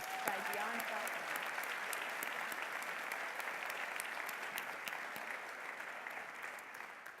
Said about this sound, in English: Can you please join me in another round of applause for that amazing performance by Dion Faulkner?